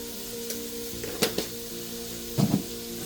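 Sliced onions with a little salt sauté in a pan for a chicken curry, a soft continuous sizzle broken by a few sharp spatula scrapes and taps.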